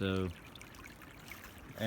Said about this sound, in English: now the water's flowing.